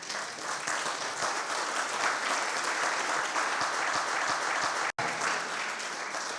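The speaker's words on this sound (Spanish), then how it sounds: "¿por qué no le da un aplauso al Rey?" A congregation at a Spanish-language church service claps together in a dense, steady round of applause that fills the room at moderate loudness, with one very brief dropout near the end.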